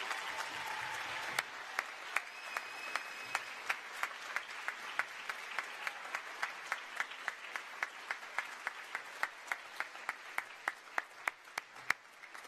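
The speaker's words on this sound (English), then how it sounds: "if we could have one last big round of applause for our adjudicators this afternoon" Audience at a school House Music event giving a last round of applause for the adjudicators: a soft, steady crowd clapping with sharp, louder single claps standing out in a quickening rhythm.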